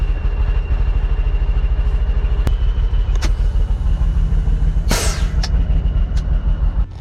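A 1984 IH Transtar 4300 truck with a loud Cummins BigCam diesel engine drones steadily in a heavy, pulsing rumble from the cab, with occasional clicks and a brief hiss of air over the constant engine noise.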